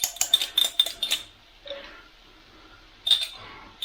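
Spoon scraping and clinking against a jar and dish while heaped teaspoons of Branston pickle are scooped out for corned beef hash: quick clustered metallic taps and scrapes, a pause, then another burst of clinks, close and fairly loud.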